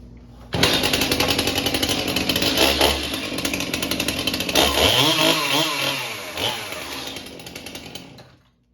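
A chainsaw, one of several saws that have been run and left to sit briefly, fires up abruptly and runs loud and buzzy for about eight seconds, its pitch wavering with throttle blips midway before settling.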